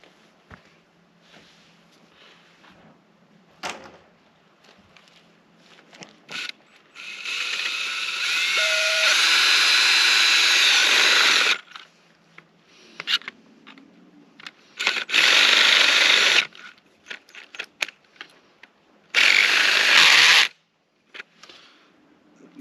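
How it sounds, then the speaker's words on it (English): A power drill whirs loudly in several sustained bursts, drilling a hole at an RV park water installation, with quieter mechanical clicks and handling noises in between. "We're going to drill a hole through here."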